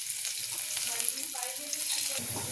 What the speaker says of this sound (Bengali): কমিয়ে দিয়েছি, অল্প একটু তেল আছে, একটু রসুন দিয়ে দেবো।